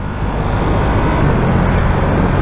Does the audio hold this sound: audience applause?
no